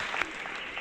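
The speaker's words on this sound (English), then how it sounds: "Let's go ahead and let's give some applause" Audience applause, a brief wash of steady clapping from a crowd, moderately loud and continuous.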